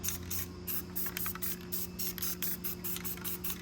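Aerosol undercoating sprayed onto Ford F-150 truck parts in a garage, a series of short hissing bursts in steady rhythm, close and moderately loud over a constant low electrical hum.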